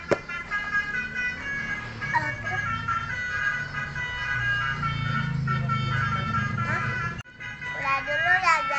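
A toy "truk oleng" truck plays its built-in tune, a loud electronic jingle of bright repeating notes that runs steadily, breaks off briefly, then resumes with a warbling melody, while someone speaks nearby.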